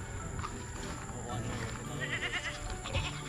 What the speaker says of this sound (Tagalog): Ay mga kambing.